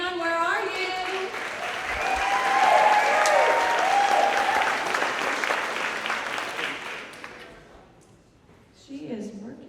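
Applause from an audience at a monthly workplace celebration rises and swells, then fades out, with voices and cheering mixed in the crowd and a person speaking again at the end.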